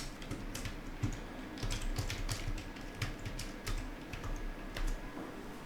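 Fingers type a password on the keyboard of a Lenovo IdeaPad Slim 3 Chromebook, giving a quick, irregular patter of soft, close key clicks that runs continuously with no voices.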